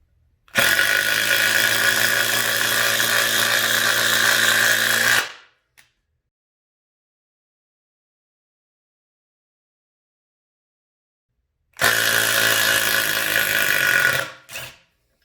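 A 20V Max XR 3/8-inch impact driver drives a thick-shanked screw into a pilot-drilled wood board, with a loud close burst of hammering about five seconds long, a pause of silence, then a second shorter burst.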